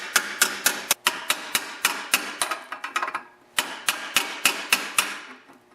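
Quick series of sharp metallic taps, about a dozen in steady rhythm with a short pause midway, as metal locking plate tabs are bent against small engine muffler bolts, close up with no speech.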